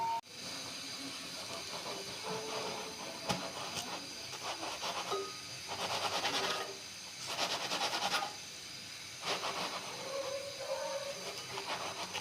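An egg-filled paratha fries in oil in a pan and is pressed down. A faint, steady hiss is broken by louder sizzling bursts each time it is pressed.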